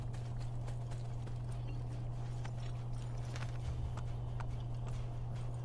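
Horse hooves clip-clopping in a steady, continuous rhythm as a rider travels in Assassin's Creed, set over a constant low hum, with no voices.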